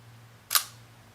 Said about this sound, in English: So let me demonstrate a shutter sound.